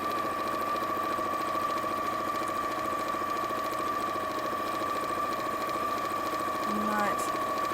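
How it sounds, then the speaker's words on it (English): A sewing machine runs steadily at a constant pace as it stitches a straight line, a continuous mechanical hum at moderate level with no breaks, ending with a short extra mechanical whirr. "So a bit sewing in a straight line isn't the most interesting thing, is it?"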